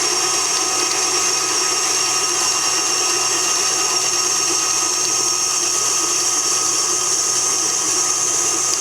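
An electric mixer whizzes Victoria sponge batter for baby sponges, a continuous high motor whine with steady buzzing, close and loud from start to finish.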